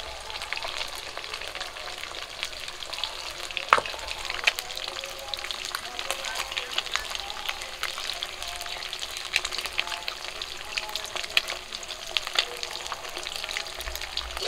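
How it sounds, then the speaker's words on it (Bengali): Pomfret fish fry in oil in a village kitchen over a wood-fired clay stove, giving a steady, fairly quiet sizzle and crackle throughout with no talk over it. "মাছগুলো ভাজা হয়ে গেছে"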